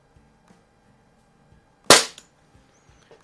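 A single sharp air pistol shot cracks out close by, a brief bright report fading quickly into a quiet room, with faint handling ticks before and after. Pistols compared include a Benjamin 137, S&W 79G and Xisico XSP120D.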